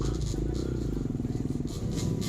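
Stock Scale X150 trail motorcycle working through mud and grass, its engine a near, pulsing low rumble with some rattling, briefly under a voice.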